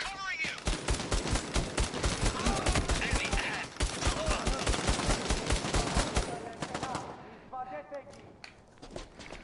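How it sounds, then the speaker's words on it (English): Rapid gunfire from the PlayStation VR co-op shooter Bravo Team: dense bursts of shots crackle continuously for several seconds, then thin out to scattered shots, with a voice talking over the action. "Bad shooting, Frankie."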